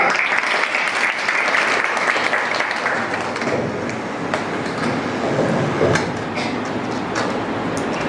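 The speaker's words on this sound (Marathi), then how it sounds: "आपण सर्वांनी यांच्यासाठी एका टाळ्या वाजवाव्या" An audience at a taluka-level school science fair claps for students' presentation, dense sustained applause that stays loud and continuous for the full stretch, slightly easing toward the end.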